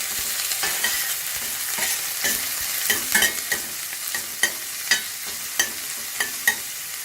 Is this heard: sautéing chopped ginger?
yes